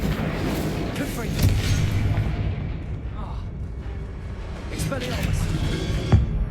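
Fire spells Incendio and Confringo go off in Hogwarts Legacy, heavy booming blasts and crackling bursts rolling one after another, loud and close under game noise.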